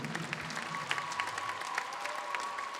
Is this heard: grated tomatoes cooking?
no